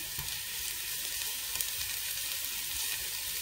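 A little garlic frying in a pan for shepherd's pie, producing a steady, close hiss and crackle with light stirring and no voices.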